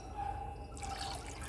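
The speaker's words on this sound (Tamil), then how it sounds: "இப்போ வந்து இதை நல்லா தண்ணி ஊற்றி ரவா தோசை பதத்துக்கு நல்லா கரைச்சிக்கோங்க" Water is poured into ragi flour in a bowl to make dosa batter: a thin trickle at first, then a fuller, splashing pour, close by and with no talking.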